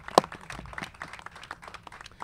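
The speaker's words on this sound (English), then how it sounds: "One more nice round of applause for John Dingell." Scattered, fairly faint applause at a press conference marking the birthday of the 1990 Clean Air Act Amendments, honoring John Dingell, with one sharp close clap standing out among the thinner claps.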